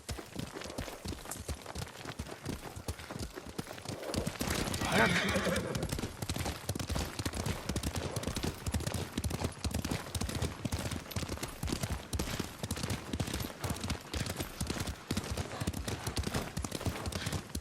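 Steady rhythmic hoofbeats of a galloping horse in the video game Ghost of Tsushima, continuous and fairly close, with a horse's whinny rising briefly early on.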